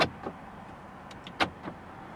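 A few sharp plastic clicks from the lock button of a 2024 Mercedes GLE 450 Coupe, near the microphone, spaced irregularly, with quiet background in between.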